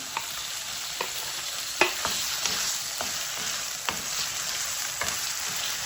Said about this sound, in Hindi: अब 3 मिनट इसकी भुनाई करेंगे